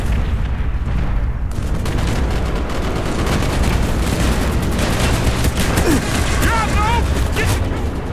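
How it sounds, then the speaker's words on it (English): Dense bursts of video game gunfire from Call of Duty: Black Ops crackle and boom almost nonstop, loud and chaotic, with distant voices mixed in beneath the shooting. "all the gunshots flying across the room"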